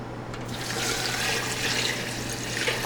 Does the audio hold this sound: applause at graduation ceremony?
no